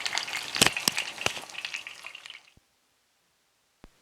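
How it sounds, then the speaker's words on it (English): Pork loin roast sears in a hot pan, a loud crackling sizzle with sharp pops for about two and a half seconds before cutting to near silence, with one faint tap near the end. "So I've kind of seared all the sides of the roast here"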